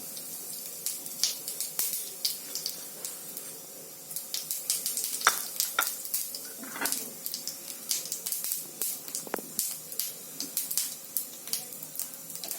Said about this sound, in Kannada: ಎಣ್ಣೆ ಬಿಸಿಯಾಗಿದೆ. ಈಗ ಶಾಜೀರಾ, ಲವಂಗ, ಚಕ್ಕೆ ಮತ್ತೆ ಏಲಕ್ಕಿ ಹಾಕೊಳ್ಳೋಣ.